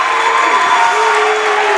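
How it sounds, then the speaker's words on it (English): Cheverus Stags student section at a boys' varsity high school basketball game cheering and clapping, a loud, dense, continuous roar of crowd noise with shouting voices throughout. "He gets a nice hand from the Stags student section as well"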